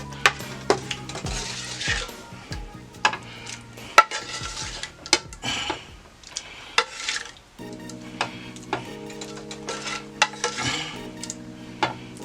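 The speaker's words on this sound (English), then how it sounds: "And we're going to add my andouille sausage to the mix." Andouille sausage and shrimp tumble into a pan and get stirred, with repeated metallic scrapes and clinks of a utensil against the pan in an irregular rhythm over a soft sizzle, close and fairly loud.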